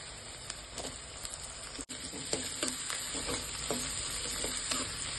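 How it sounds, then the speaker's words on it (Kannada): Onions sizzle and fry steadily in about four spoons of hot oil in a pan for a spicy mutton dish, with occasional stirring scrapes and crackles, close and continuous throughout. "ಈಗ ಈರುಳ್ಳಿ ಹಾಕ್ಕೊಳ್ತಾ ಇದ್ದೀನಿ ನಾನು"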